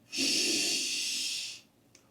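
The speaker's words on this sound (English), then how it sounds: "So I'm just taking a big breath in." A single deep inhalation during pranayama breathwork in a park, a steady airy draw lasting over a second, close and fairly loud, then a faint short breath sound at the end.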